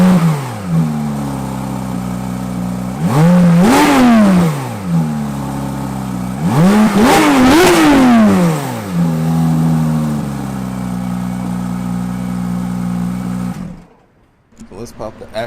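A Porsche 911 GT3 flat-six engine idles with a deep growl, then revs hard twice, rising and falling in pitch, before cutting out abruptly.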